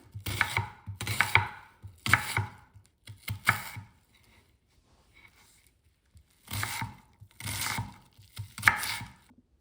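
A knife dices an onion on a cutting board while cooking shakshuka, a Middle Eastern dish. Close, crisp chopping strokes come in quick bursts of several cuts, with a short pause in the middle.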